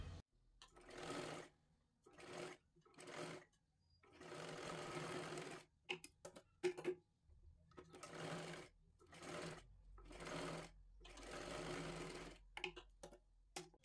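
A sewing machine stitches a seam on a 36-size three-piece princess blouse. It runs in short, quiet, whirring bursts that start and stop repeatedly, with brief pauses between runs.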